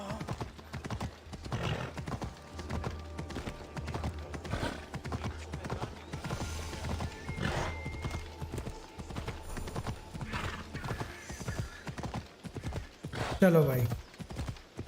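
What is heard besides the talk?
horse hooves and neighing in video game Assassin's Creed Odyssey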